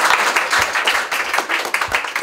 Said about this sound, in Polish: No i brawa.